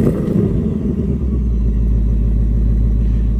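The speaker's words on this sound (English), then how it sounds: "if no one is familiar with the new remote rev, I will go ahead and do that for you guys right now" A 2024 Ford Mustang GT S650 Performance Pack revved via remote rev, giving a loud, close, deep engine rumble that swells and then settles into a sustained low drone, with no talking.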